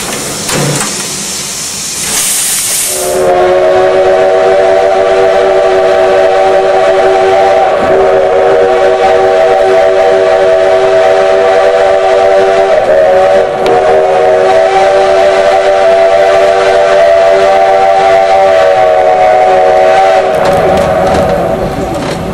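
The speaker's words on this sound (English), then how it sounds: "the train begins climbing the grade to Oblivion" A steam train whistle sounds after a brief burst, then a long steady multi-tone whistle blast holds for many seconds over a loud, constant rumble of the Mallet locomotive climbing a mountain grade.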